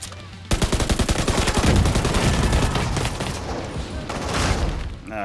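An automated turret in The Division 2 opens up after a brief pause, a loud, rapid machine-gun stream of evenly spaced shots that runs for about five seconds, then cuts off abruptly.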